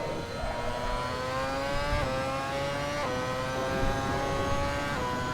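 Ferrari F138 Formula One car in the racing game Assetto Corsa, its engine winding up hard through the gears, each rising whine cut by a quick upshift about once a second, loud and close throughout.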